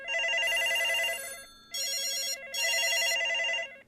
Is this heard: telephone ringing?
yes